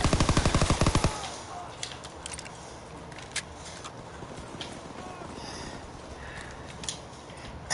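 Video game gunfire: a fast burst of loud automatic shots in the first second, then scattered fainter shots and clicks under ongoing game noise.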